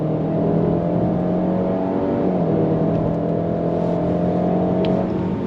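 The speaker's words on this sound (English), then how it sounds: "The one thing that is a little loud is going to be the 4-cylinder turbocharged engine" Cadillac XT4 Sport's turbocharged four-cylinder engine accelerating on throttle, a steady, moderately loud drone heard from inside the cabin that rises slightly in pitch, with a brief shift in tone partway through.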